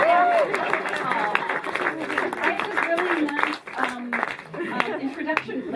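Applause from a panel audience, steady clapping that swells and then eases, with voices and cheering mixed in throughout.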